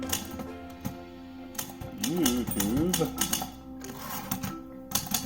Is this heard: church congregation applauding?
no